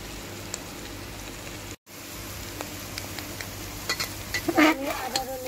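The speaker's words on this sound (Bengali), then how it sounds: "এই সয়াবিনগুলো একটু কালার না আসা পর্যন্ত আমি এগুলো ভেজে নেব।" Soya chunks fry in soybean oil in a pan, giving a low steady sizzle with occasional stirring scrapes and a few clinks toward the end.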